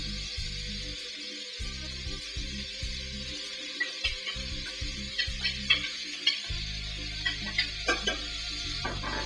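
Onions drop into melted butter in a pan and begin to fry, giving faint sizzling with intermittent stirring and scraping clicks, quiet and close.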